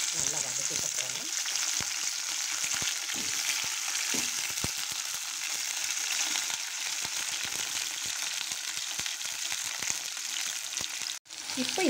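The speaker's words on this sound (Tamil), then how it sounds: "இப்போ எண்ணெய் சூடாகிடுச்சு, கத்திரிக்காயை போட்டு நல்லா வதக்கிக்க போகிறேன்." Brinjal (eggplant) pieces fry in hot oil with a steady, hissing sizzle. Light stirring taps break in now and then, with a short dip near the end.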